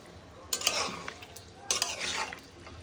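Fish stirred and mixed in a pan, with two bursts of scraping, sizzling stirring close by and quieter gaps between them.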